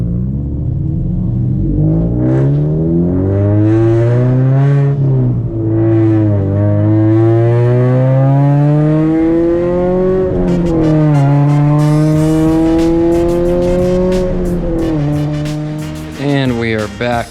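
Scion FR-S fitted with a TRD catback exhaust revs hard and downshifts, loud sustained engine note rising and falling through gears with sharp pitch drops, close and continuous for the whole stretch.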